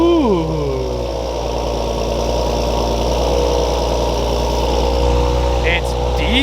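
A 2020 Toyota Supra fitted with a straight-pipe exhaust idles loudly and steadily up close after a fresh startup, with a deep, even rumble and a brief revving rise at the very start.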